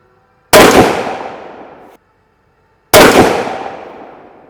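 Two sharp, loud rifle shots fired with Hornady American Whitetail Tipped ammunition, a couple of seconds apart, each a close crack that rings out and fades over more than a second.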